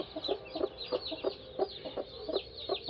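A hen with her chicks on a farm in Kadapa clucks in a quick, regular series of short calls, moderately close, with faint high peeps in the background.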